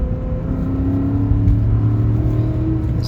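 A 2004 Maserati Quattroporte engine pulls hard in second gear near 4,000 RPM, a steady loud close rumble with a rising whirring tone throughout, no talk.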